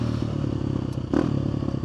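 A Husqvarna 350 motorcycle pulling a power wheelie in third gear, a loud, close, steady engine drone with a brief clattering surge and rattle partway through, and no talk.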